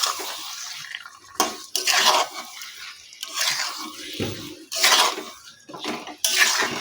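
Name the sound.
stirring marinated chicken into cooked masala in a pan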